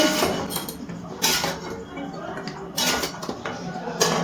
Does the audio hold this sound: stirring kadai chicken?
yes